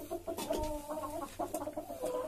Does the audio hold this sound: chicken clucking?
yes